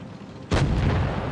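A tank cannon fires in the World of Tanks Blitz video game, a single sudden heavy boom that hits hard at once and rolls on loudly through the rest of the short moment, with no talking.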